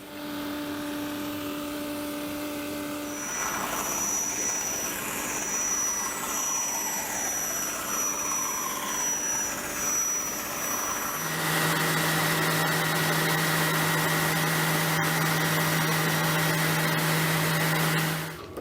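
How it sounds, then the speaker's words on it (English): A drum sander runs on walnut stock for a knife stand, a steady loud machine drone and whine that shifts pitch partway through and holds to the end with no talk. "Bandsaw, cut slightly large, and then run it down through the drum sander."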